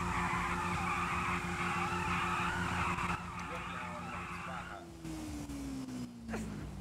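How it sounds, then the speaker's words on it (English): Tires squeal and skid as a car burns rubber in a GTA RP street scene, a long screeching tone sliding downward over engine drone, with players talking throughout. "Bro, burn out rubber on that bitch."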